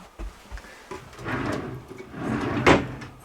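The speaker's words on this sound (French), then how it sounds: "Et regarde dans les tiroirs s'il y a quelque chose." Drawers in a cottage being pulled open and rummaged through, with several short wooden knocks and slides, a brief scraping rattle near the end, close and moderately loud.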